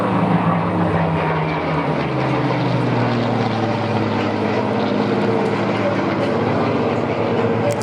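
Bücker Jungmann propeller aircraft flying an air show display at Duxford, its engine a steady, loud drone with a dense low rumble lasting throughout, no voices over it.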